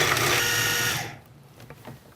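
A food processor pulses broccoli and cauliflower seasoned with ground pepper: one loud, close motorized whirring burst of about a second, then it stops and only faint rattles and handling noises follow.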